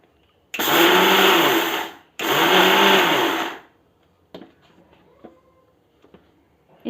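A mixer grinder whirs loudly in two short bursts, grinding dry flax seed chutney. A brief pause separates the bursts. Quiet clinks and knocks follow as the jar is handled.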